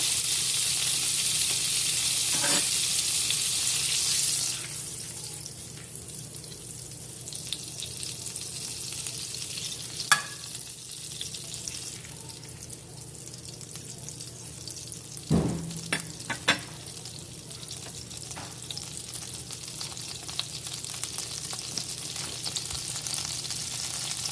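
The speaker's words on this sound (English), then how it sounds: "We'll start with a stick of butter. Let that melt down." A stick of butter melts in a pan for a seafood dressing, sizzling loudly at first and then settling to a quieter steady crackle, with a few faint clinks.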